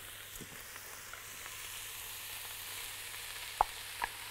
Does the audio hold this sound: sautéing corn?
yes